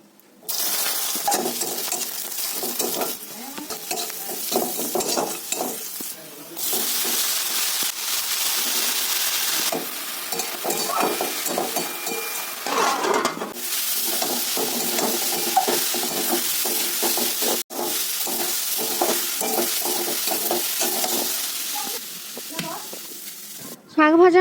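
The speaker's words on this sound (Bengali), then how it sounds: "চলো শাকটা ভাজা করে নিই" Water spinach (kalmi greens) sizzles steadily in a hot pan, with stirring scrapes and clatters coming in several bursts separated by short pauses.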